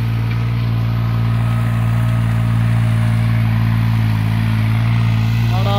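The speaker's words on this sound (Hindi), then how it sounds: "दूसरे गेर में चल रहा है ये" A turbocharged New Holland 3630 tractor engine runs in second gear, a loud, close, steady low diesel drone with even throbbing that holds without a break throughout.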